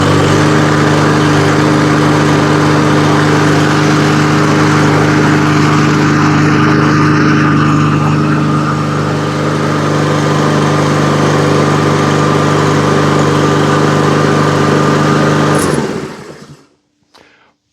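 A Troy-Bilt lawn mower's small engine runs steadily at a constant, loud drone close by, then cuts off near the end and sputters into silence.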